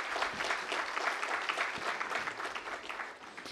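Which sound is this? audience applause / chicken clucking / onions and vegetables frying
audience applause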